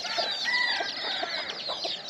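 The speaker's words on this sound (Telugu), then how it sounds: "ఆ కోడి పుంజ ఏది" Rooster and hens cluck and crow in a busy, continuous chorus around a basket in a village yard, close and fairly loud, with no talk over them.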